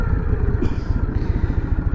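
A Harley motorcycle engine with a clutch out of adjustment, loud and close, idling in a throbbing, uneven low rumble with slight clatter.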